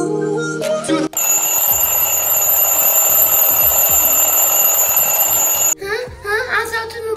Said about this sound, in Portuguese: Ah, não, é só despertador.